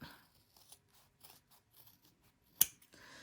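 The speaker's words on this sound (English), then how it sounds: "So I'm going to trim first, and I'm going to trim my corners." Scissors snip through fabric seam corners while trimming a sewing project, with faint soft handling noises and one sharp, close snip standing out near the end in an otherwise quiet room.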